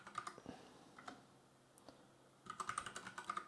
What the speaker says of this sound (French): On tape le mot de passe.